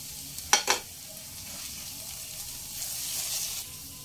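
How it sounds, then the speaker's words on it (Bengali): Onion and green chili frying in a pan as ginger-garlic paste goes in, two sharp sizzling bursts early on, then a quieter steady hiss of cooking. "তিরিশ সেকেন্ড পেঁয়াজ লঙ্কা ভেজে নেওয়ার পর দিয়ে দেব হাফ চায়ের চামচ আদা রসুন বাটা"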